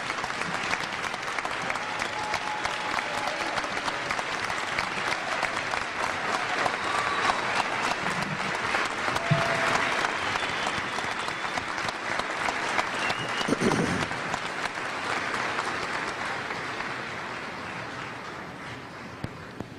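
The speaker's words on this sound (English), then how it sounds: "Will the members of the audience please join me in a round of applause to recognize these special graduates" University commencement audience gives sustained applause for graduating army second lieutenants: dense, steady crowd clapping lasting about twenty seconds, fairly distant in a large hall, with faint voices and a brief thump midway, tapering off at the end.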